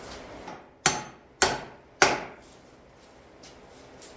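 Three sharp metal hammer strikes on the wheel bolts of a Farmall 504 tractor, evenly spaced and fairly close, with a couple of softer taps after.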